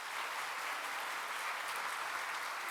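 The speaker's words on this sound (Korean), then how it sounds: "우리 박수로 환영하시겠습니다" A church congregation claps together to welcome a first-time visitor at a Sunday Easter worship service. The applause is dense and steady, filling the room evenly from start to finish with no voices over it.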